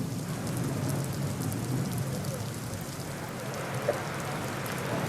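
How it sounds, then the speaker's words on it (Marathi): Heavy monsoon rain pours down in a constant, dense hiss, drumming on surfaces close by, with a low rumble underneath and no voices, as streets and railway tracks near Dadar station flood. "सकाळपासून पडलेल्या मुसळधार पावसामुळे रस्ते तर जलमय झालेले आहेत"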